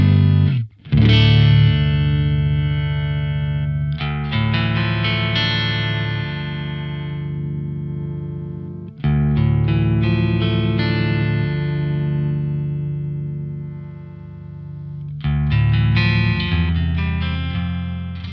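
Electric guitar through a Crazy Tube Circuits Crossfire pedal set to high headroom with gain eased back, ringing distorted chords strummed in three long sustained phrases that decay slowly, loud and alone.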